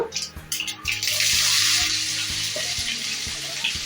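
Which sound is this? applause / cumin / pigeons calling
cumin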